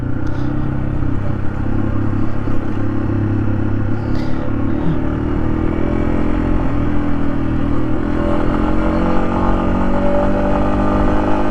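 A small adventure motorcycle rides a rough backcountry trail, its engine droning steadily and close throughout with a dense rumble and faint rattling, no voices.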